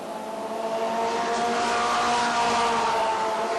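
Race cars compete at the Granby track, their engines a loud continuous roar with layered tonal whine that holds steady and swells slightly as the pack passes.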